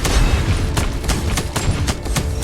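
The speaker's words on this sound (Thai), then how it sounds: "ยิงปืนกลนะครับ" Rapid machine gun fire in the mobile game RoV: a dense, loud stream of bursts with sharp repeated cracks pounding alone with no voices.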